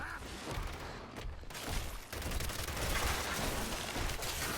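Retro Lancer assault rifle fire in Gears 5 Horde mode, a loud, dense barrage of shots and booms rolling continuously with no talk over it.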